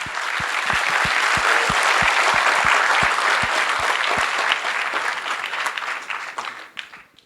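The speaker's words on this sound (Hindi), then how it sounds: "जोरदार तालियां।" Loud, dense applause from a large crowd of students at a packed coaching meet-up, steady for several seconds before thinning out and fading toward the end, with a few sharp thumps heard early on.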